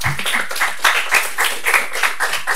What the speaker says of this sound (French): Je vais laisser la parole du coup à Sydney, que je vous demande d'applaudir pour l'encourager.